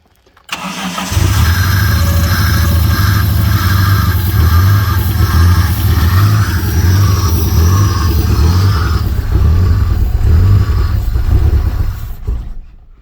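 A car engine cranks and catches after a turbo blow-out, then runs loud and close with repeated revs rising and falling over a steady idle, alone without talk.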